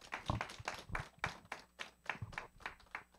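A small audience claps at a morning book talk, a sparse, fairly quiet round of applause with individual hand claps falling in a loose, uneven rhythm.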